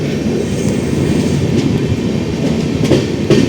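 Kanyakumari Express at Kollam Junction station, a steady close rumble of rolling rail cars with a faint clickety-clack running throughout, no voices.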